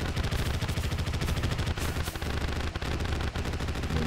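Rapid, relentless shooting in the video game Terraria with the One Piece mod, a dense stream of loud game gunfire sounds that barely lets up, with no talking.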